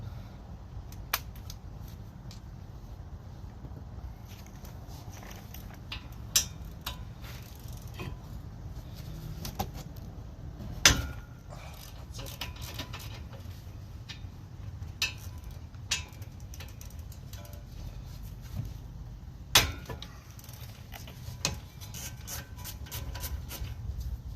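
A 17 mm socket on a ratchet works the front brake bolts of a 2022 Toyota Corolla, giving a long run of quiet clicking and rubbing with sharper metallic ticks scattered throughout, close by and with no talk.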